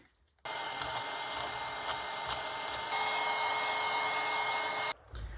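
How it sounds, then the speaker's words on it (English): A hairdryer blows steadily on beads while they are stirred, giving a loud, even whoosh that runs for about four and a half seconds and then cuts off abruptly, with a few faint clicks along the way. "stir the beads while drying them with a hairdryer"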